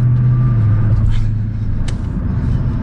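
Heavy low engine rumble inside a Dodge Challenger SRT Hellcat Redeye on the road, loud and steady, with a faint higher supercharger tone riding over the drone and no talk.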